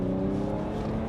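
A BMW E90 330d with the 3.0-litre M57 diesel pulls hard after a clutch gear change, its engine droning loudly and steadily from inside the car with a constant low hum.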